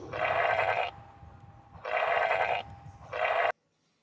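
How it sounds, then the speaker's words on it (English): A cartoon sheep for a children's animal lesson bleats three times, each a loud, wavering baa of about a second, with short pauses between them before the sound cuts off abruptly. "This is a sheep. A very beautiful young sheep."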